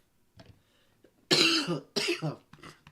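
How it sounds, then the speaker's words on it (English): Two loud, rough coughs close by, after some faint throat noises, followed by quieter breathy sounds. "Sorry for coughing"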